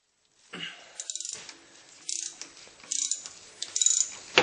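A hand ratchet clicks in quick bursts on the engine mount bolts of a Honda Prelude, several short runs of rapid pawl clicks separated by pauses, loud and close with no talk.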